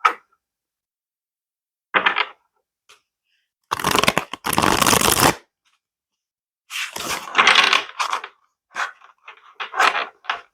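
Tarot cards being shuffled by hand, a few short riffling bursts separated by pauses, close and fairly loud with no talking.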